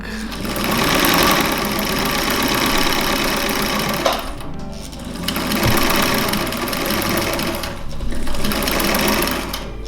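A grandmother's old sewing machine stitching a fabric apron, whirring loudly and continuously up close, with two short dips in speed before it runs on.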